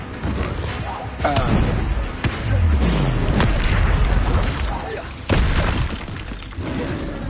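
In Hogwarts Legacy, a Confringo spell erupts in loud, booming blasts and crashing impacts amid dense game effects and combat noise, with a couple of sharp hits standing out, while a voice speaks over it.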